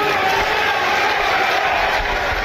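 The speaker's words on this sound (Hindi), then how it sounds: "जो मुझे नारों की आवाज सुनाई दे रही है और जो तालियों की गड़गड़ाहट की आवाज सुनाई दे रही है" A political rally crowd at a public meeting in Dumka roars steadily with cheering, applause and chanted slogans, a loud, dense, continuous wall of crowd noise.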